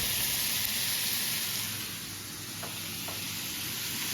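Steak bites sizzle steadily in a hot pan with garlic and butter, a constant close frying hiss with a couple of faint clicks near the end and no talking.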